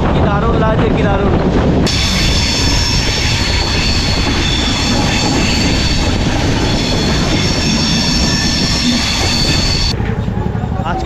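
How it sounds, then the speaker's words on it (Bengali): The 13149 Kanchankanya Express out of Sealdah runs on rails through hill and tea-garden country, giving a loud continuous rumble of wheels and carriages with a sustained high metallic squeal through most of the stretch. "আজকে জার্নি করতে চলেছি 13149 শিয়ালদা থেকে নিউ দুয়ার কাঞ্চনকন্যা এক্সপ্রেস"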